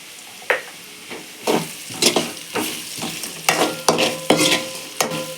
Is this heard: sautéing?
yes